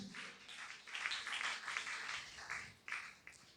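A church congregation at a Sunday service claps in quick, uneven rhythmic bursts, moderately close and fairly soft, with a few louder slaps toward the end.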